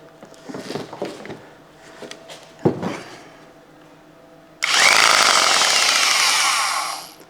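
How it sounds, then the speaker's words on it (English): An old electric saw bought at auction starts after some handling clicks and knocks, then runs loudly and steadily with a slight knock for a couple of seconds before winding down. "Okay, we got a running saw."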